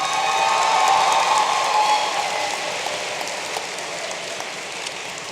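An audience at the 2012 Metro Tech completion ceremony claps in a broad, sustained patter that starts full and slowly thins out over several seconds.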